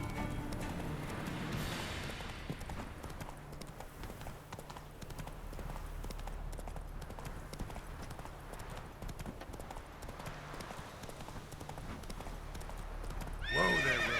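Roach the horse gallops in The Witcher 3: Wild Hunt, steady clip-clopping hooves running throughout under game ambience, ending in a sharp neigh.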